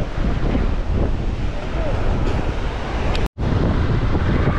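Sea waves and wind at Kuakata beach in the rain, a steady, loud, broadband roar with gusts buffeting the microphone throughout and a brief dropout near the end.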